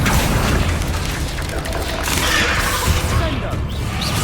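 A Confringo blasting spell goes off in Hogwarts Legacy, heard as a dense booming burst of magical explosions and crashing combat effects. The noise stays loud and continuous throughout, with a voice mixed in.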